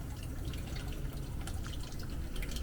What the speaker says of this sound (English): that's what that water is steadily coming through there. So it's a leak somewhere.